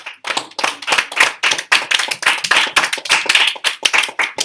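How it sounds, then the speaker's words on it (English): Sixth-grade math classroom giving a round of applause, loud close clapping with sharp distinct claps in a quick uneven rhythm, sounding like a small group of students rather than a large crowd. "All right, give a round of applause, ladies and gentlemen."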